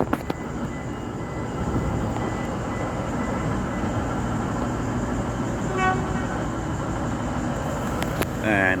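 Train passing Morwell station in Victoria, Australia, a loud steady rumble and roar of rolling wagons throughout, with a brief high squeal near the end.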